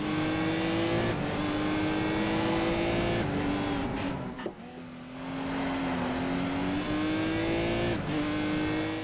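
A Lamborghini race car in the racing video game GRiD drives at speed, its engine a steady high-pitched drone with a few brief gear-shift dips and pitch changes, heard alone without talk.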